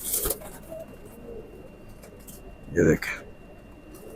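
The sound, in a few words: teddy pigeon cooing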